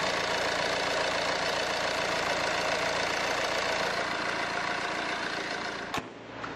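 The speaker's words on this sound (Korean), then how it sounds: "바로 엔진 소리 한번 들려드릴게요" A 2017 Renault Samsung QM6 four-wheel-drive SUV engine idles close up, a smooth, steady hum with no talk, cut off by a brief click near the end.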